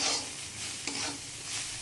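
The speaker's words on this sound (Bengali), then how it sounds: "আলু ভাজা।" Potatoes frying in a pan for a home dinner, a soft steady sizzle with faint stirring scrapes, one small clink near the middle, no voices.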